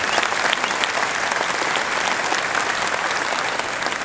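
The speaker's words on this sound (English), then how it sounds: "Yes, you can applaud, please." Audience applause at an orchestra concert with a saxophonist, a dense, steady wash of many hands clapping throughout, loud and sustained without pause.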